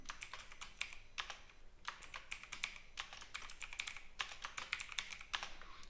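Rapid typing on a computer keyboard, crisp clicky keystrokes in quick bursts with short pauses, close and fairly quiet, with no talking.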